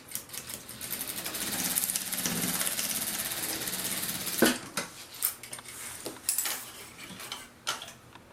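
A sewing machine stitches fabric for a unicorn tablet case, a fast mechanical whirring run for several seconds that breaks into short, stop-start bursts of stitching with clicks, moderately quiet and close.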